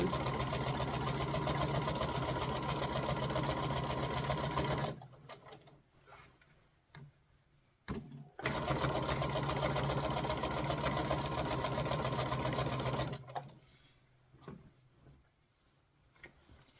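Sewing machine quilting an owl quilt, a loud rapid mechanical whirr in two long bursts separated by a pause, then quiet handling sounds as the fabric is shifted.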